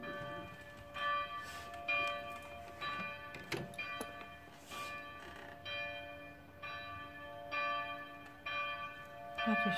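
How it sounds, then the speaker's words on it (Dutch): Church bells in Den Helder ring out in a slow, irregular sequence of resonant strikes, each tone ringing on and overlapping the next, heard from a moderate distance outdoors. "Maar ik wil jullie toch even nog wel wat laten horen. De kerkklokken."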